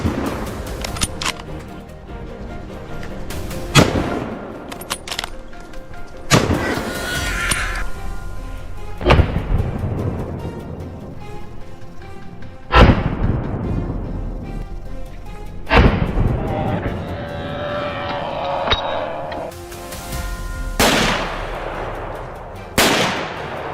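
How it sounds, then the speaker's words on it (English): A series of loud, sharp rifle gunshots during a wild boar hunt, roughly one every few seconds, each followed by a long echoing tail in open surroundings. "Gunfire echoed through the air"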